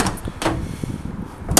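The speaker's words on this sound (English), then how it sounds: "Both rear doors do open fully" The rear doors of a Peugeot Expert 1000 1.6 BlueHDi van are handled, giving several close, sharp door clunks and latch knocks spaced through a short stretch, with no talking.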